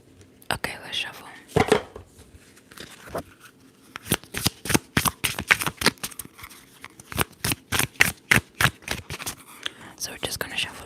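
Crisp, rapid riffling of tarot cards being shuffled close up, in quick bursts that speed into a steady flurry, with some soft whispering in between.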